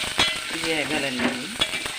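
Onions and hill green chilies fry in a pan with a bright, crackling sizzle and a few sharp pops, while a brief tonal, voice-like sound rises over the middle of it.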